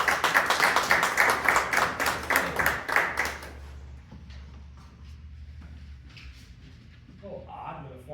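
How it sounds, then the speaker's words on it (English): A luncheon audience at a Kiwanis Club of Bradford weekly meeting gives a brisk round of rhythmic applause that stops after about three seconds, leaving quiet room murmur and faint shuffling. "Please give him one round of applause."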